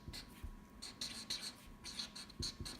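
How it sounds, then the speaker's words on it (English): A physics formula being handwritten, quick scratchy pen strokes in short bursts, close and soft against a faint steady hum, no talk. "I'll write that formula down."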